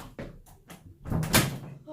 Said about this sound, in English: knocking on the door here